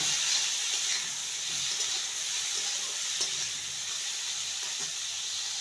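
Kakrol (spiny gourd) with turmeric and salt frying under a lid in a pan on low heat, giving a steady, even hiss and sizzle that runs the whole time with no one talking.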